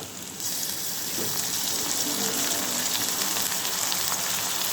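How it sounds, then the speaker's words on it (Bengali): Onion frying in hot oil for a mola fish chorchori, a sudden loud sizzle that breaks out and then holds as a dense, even crackle close by, with no voices. "পেঁয়াজটা একটু ভেজে নেব"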